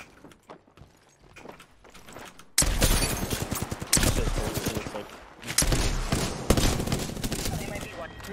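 Enemy gunfire in the video game Apex Legends, loud bursts of rapid automatic shots that start suddenly after a quiet opening and return in several close, heavy volleys, with talk mixed in.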